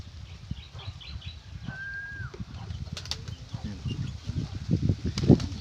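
A pet bird flaps its wings and lands on a landing board, making soft fluttering bursts, a brief whistle, and scattered chirps over low outdoor background noise.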